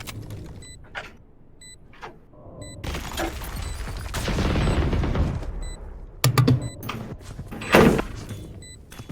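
Repeated gunfire bursts in the tactical shooter Valorant during a Step Up Series esports match, with sniper shots and sharp reports of varying loudness scattered among game effects.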